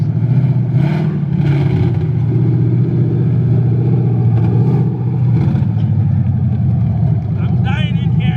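A V8-swapped Toyota Cressida revs hard in first gear during a burnout, its rumbling engine loud and steady throughout, with people talking over it inside the cabin.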